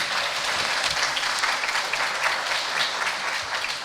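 Audience applauding at a school ribbon cutting ceremony, a steady wash of many hands clapping close by with no break, and no voices heard over it.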